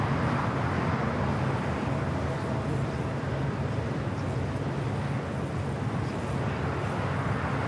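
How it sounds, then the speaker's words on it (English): Air France airliner rolling down runway 25 Right at LAX for takeoff, a steady broad engine roar heard from a distance, constant and unbroken, with no voices. "Air France heading back to Paris, now rolling down the 25 right."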